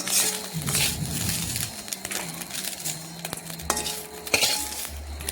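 Small fried dhela fish are lifted from an oily pan with a sizzle and scattered clinks and scrapes of a utensil against the metal, fairly close and moderately quiet.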